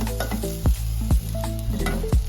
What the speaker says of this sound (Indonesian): Lalu diaduk hingga semuanya tercampur